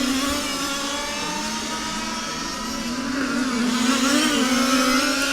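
Large-scale RC racing cars at the EFRA European Championship final, a steady high-pitched engine whine with pitch shifting as the cars accelerate and pass, continuous and moderately close with no talk.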